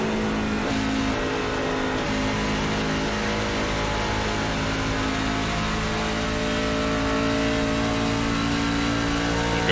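A NASCAR Truck Series truck engine in the iRacing simulator at Charlotte, pushed hard through a full lap, drones loud and continuous with shifting revs and a steady harmonic whine, no speech.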